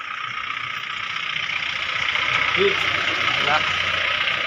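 A car engine idles steadily after the vehicle arrives in a village, a continuous mid-range hum running under the whole stretch, with people talking nearby.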